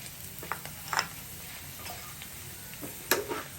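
Grated potato shreds fry in hot oil with a soft, continuous sizzle, broken by a few crisp ticks and stirring clatters close by; there is no talking.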